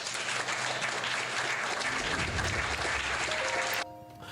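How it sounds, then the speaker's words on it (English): Sound-effect applause from a crowd plays during a livestream, a thick, steady roar of many hands clapping that cuts off abruptly near the end, leaving a faint tonal hum. "you both will get the applause"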